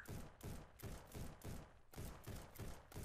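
Gunfire from a gun in the pixel-style battle royale game Pixel PUBG rattles out as a rapid string of about eight evenly spaced shots, loud and up front, with no voices over it.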